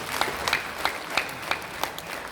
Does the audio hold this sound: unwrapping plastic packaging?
no